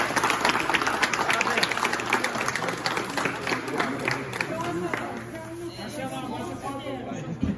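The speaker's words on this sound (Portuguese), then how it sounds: "Salve de palmas, senhor" A round of applause and clapping from a crowd at a meat and barbecue event, dense and steady at first, then thinning out as chatter and voices take over toward the end.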